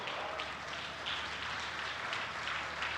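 Audience applause at an IRONMAN 70.3 Middle East Championship event in Bahrain, a steady dense wash of clapping from a large crowd that holds evenly for the whole stretch without any voices.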